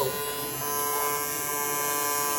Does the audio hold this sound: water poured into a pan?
no